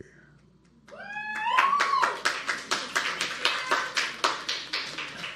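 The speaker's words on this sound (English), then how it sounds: "Not sure why you're clapping for that" A small audience breaks into steady clapping after a brief spoken line, the claps moderately loud and fairly close, settling into a regular rhythm.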